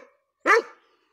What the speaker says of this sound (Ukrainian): Оце собака. Така розумна собака.